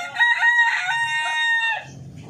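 An Orpington rooster crows once, loud and close, a drawn-out cock-a-doodle-doo in a farmyard, followed by a faint low cluck.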